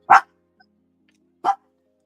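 A dog gives two sharp, loud barks about a second apart, close by, with quiet between them.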